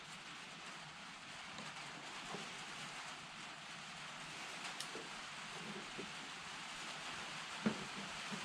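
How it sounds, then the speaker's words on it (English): A low, even hiss of light rain beginning, faint and continuous, with a few scattered drops and soft knocks. "Here comes the rain. I hear it."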